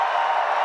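A large rally crowd cheering, a brief steady roar of many voices, loud and continuous with no distinct individual sounds.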